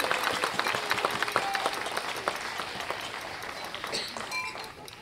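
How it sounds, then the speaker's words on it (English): An audience at a seaside speech event in Penang applauds, a steady wash of many hands clapping at moderate distance that slowly fades, with a few faint clinks and voices mixed in. "give yourselves a huge round of applause."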